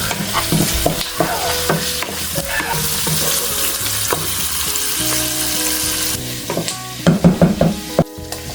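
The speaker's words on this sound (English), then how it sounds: "Let's add the sliced bacon." Sliced bacon sizzles and crackles in a pot while being stirred for Filipino mung bean soup, a loud, steady frying hiss with scraping and clinks of the utensil near the end.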